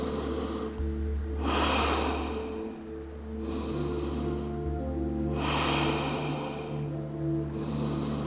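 Slow, deep breaths of a person resting in child's pose during a yoga flow, three or so broad inhale-exhale swells close to the microphone with a nasal, slightly snorting texture, no talking.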